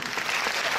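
Brief burst of steady audience clapping at a Plus belle la vie event in Vichy, dense and even across its short span.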